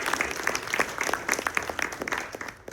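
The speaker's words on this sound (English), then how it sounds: "let's give one big round of applause to our panelists today" Brief round of applause for panelists at a startup founder event, with a small audience clapping crisply and unevenly for a few seconds before tapering off.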